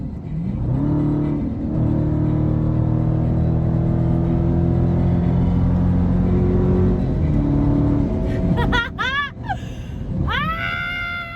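A Ford Mustang accelerating hard on a highway at high speed, its engine a loud sustained drone with shifting pitch, joined by rising whistling tones near the end.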